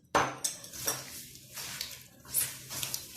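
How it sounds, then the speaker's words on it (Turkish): Cookie dough ingredients, powdered sugar and baking powder, being mixed in a bowl: close clattering and scraping of a utensil against the bowl in quick, irregular strokes. "Karıştırıyoruz."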